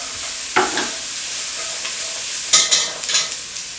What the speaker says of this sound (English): So I'm going to give our onions a little stir.